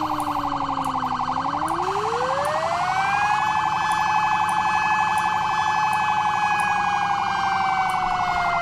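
Emergency vehicle sirens in the video game Flashing Lights, loud continuous wailing tones that sweep upward and hold steady, several overlapping sirens sounding close with no talk.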